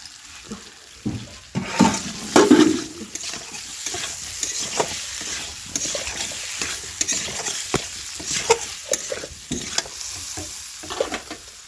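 Potatoes sautéed with spices, ginger and garlic in a pan give a steady low sizzle, broken by irregular scrapes and clinks of a stirring spoon, with a brief louder clatter early on.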